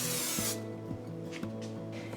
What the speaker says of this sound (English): And spray with some cooking oil.